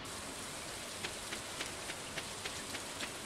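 Steady rain in the farming game Stardew Valley, an even broadband hiss with faint droplet ticks, fairly quiet and alone with no voices.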